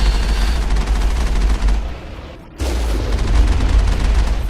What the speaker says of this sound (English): another turret feels the force of the Mako and is blown to smithereens